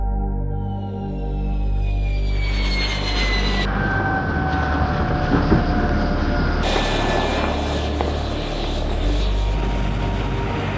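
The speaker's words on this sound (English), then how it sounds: "Their two Pratt & Whitney F-100PW double-2-9 engines are the same as those on the F-16 Fighting Falcon" Twin Pratt & Whitney F100 engines of a US Air Force F-15E Strike Eagle roar loudly and steadily at close range, with a broad rumble and shifting high whines continuing throughout.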